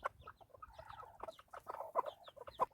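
Hens in a backyard coop where several have hatched chicks cluck softly and continuously, with short sharper calls rising near the end, close by and at a low overall level.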